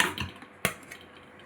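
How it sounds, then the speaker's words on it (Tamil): A metal pan is set down on a kitchen stove, a short scrape followed by one sharp clank near the middle, close and fairly quiet, with light clatter around it. "ஒரு பேன் அடுப்பில் வச்சுருக்கோங்க"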